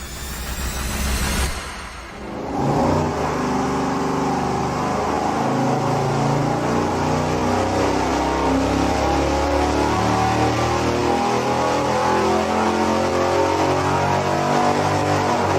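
A Mopar engine on a dyno, part of a run comparing a Hemi, a 440 and a Slant 6, fires after a short burst of cranking. It then holds a loud, steady idle close by, with no talking.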